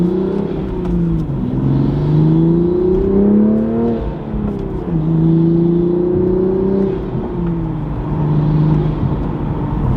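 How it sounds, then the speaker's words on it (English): A manual Toyota Supra with a turbo engine and MST intake revs up through the gears while driving, its engine note rising and falling in several long pulls with turbo whoosh, loud and close, no talking. "you can definitely hear the turbo a lot more"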